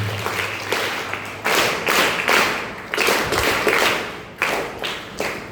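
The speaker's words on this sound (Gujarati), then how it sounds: "એમના માટે પણ એક વખત જોરદાર તાળીઓ થશે" A crowd at a high school function claps for the donors of student prizes, a loud ensemble of many hands in uneven surges that swell and ease over several seconds.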